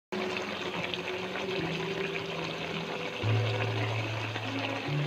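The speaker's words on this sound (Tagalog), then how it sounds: "Ilalagay na natin ang kakang gata bago pakuluin natin ulit." Thick coconut cream pours into a cooking pot of ginataang dilis, a steady close liquid trickle and splash heard alone with no talking.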